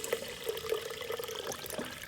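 Water trickling and sloshing as a pool skimmer fills itself from below the water line, a steady soft wash with small splashy bursts.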